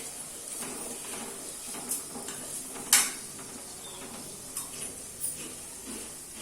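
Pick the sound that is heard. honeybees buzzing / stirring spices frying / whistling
stirring spices frying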